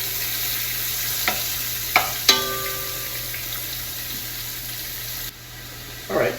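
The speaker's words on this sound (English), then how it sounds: "I'm going to put some onions in here, coarse cut, and we're just going to brown them off a little bit." Coarse-cut onions browning in a pan, a low, even sizzle with a few distinct utensil clinks early on, quieting near the end before a short final scrape.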